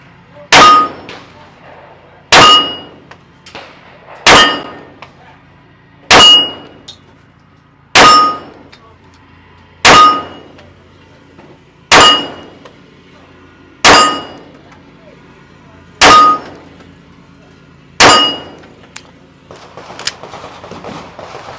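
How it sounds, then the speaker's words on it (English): Bullets ringing off a small steel target, ten sharp metallic clangs at a steady pace about two seconds apart, each loud and close with a short ringing decay, no voices. "So a lot of the times, you'll see that I'm hitting the steel every single time and there's no delay on the exit."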